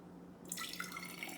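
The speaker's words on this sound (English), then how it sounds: "but I'm gonna put in some water first" Water poured into a water-culture container holding a houseplant's roots, starting abruptly after a quiet moment as a soft, continuous trickling splash, close and faint.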